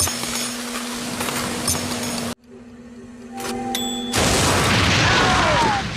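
Booming blast of a truck bomb going off in a basement during a drama scene, an abrupt loud burst after sustained noise, then a sharp cutoff, a short quiet with faint tones, and a roaring, rumbling aftermath.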